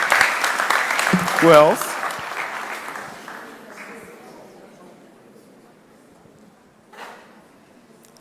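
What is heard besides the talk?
audience clapping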